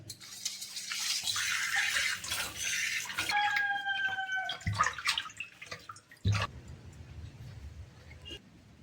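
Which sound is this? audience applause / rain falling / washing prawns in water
washing prawns in water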